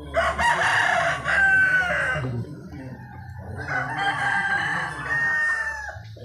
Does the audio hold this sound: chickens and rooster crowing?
yes